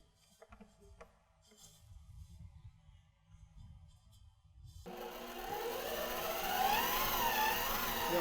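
An Aicok 5-quart stand mixer kneads sticky dough with a steady, rising motor whir and churning hum that swells and holds loud, after a stretch of quieter clatter.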